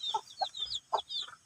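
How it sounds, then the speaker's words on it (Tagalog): Newly hatched chicks peep in high, thin chirps, several short calls in quick succession mixed with a few lower clucks from a hen, close by and fairly quiet. "May narinig ako na sumisiyap."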